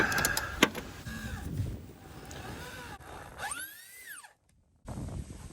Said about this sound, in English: So you have to go very slow as the tip is screwing in and apply pressure to the drill.